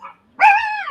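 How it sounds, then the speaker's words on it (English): A small dog gives a single sharp, tonal bark, loud and close, preceded by a brief faint whine. "Here goes Tiny with her big demon dart bark there."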